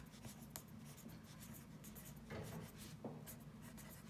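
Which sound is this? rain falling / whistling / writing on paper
writing on paper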